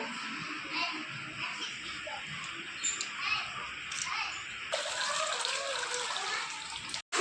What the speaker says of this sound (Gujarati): આપણે ધોવા હાટું એક ડોલ લઈ લીધી છે અને આપણે આ 2-3 પાણી ધોવાની છે